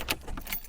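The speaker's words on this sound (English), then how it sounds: "So as you can see, the keys work" Keys jangle at a classroom door lock in a few quick metallic clinks, close and brief, over low background rumble.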